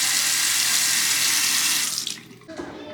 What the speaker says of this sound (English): we have running water here again